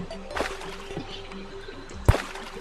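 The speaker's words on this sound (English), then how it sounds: "I heard water. Yep, there's water down here." Water in an underground cavern of the video game Terraria gives a soft splash early on, then a sharper, louder splash near the end, over faint background noise.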